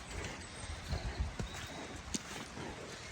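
Hooves clip-clop softly as three mares are led out of a stable, producing faint, irregular steps against a hissing background.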